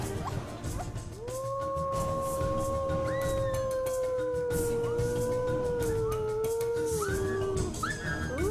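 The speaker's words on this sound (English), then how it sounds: "And the best place to start is with the howl." A wolf gives a long, rising then sustained howl, loud and close, with a second, higher howl joining partway through and other faint wavering voices of the pack behind it.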